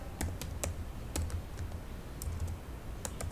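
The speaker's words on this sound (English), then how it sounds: "So now type the Scipy program from" Keys on a computer keyboard tapped in short irregular bursts while entering a Python program, close and fairly quiet with a low background hum and no talking.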